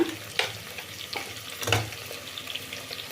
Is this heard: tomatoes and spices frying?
yes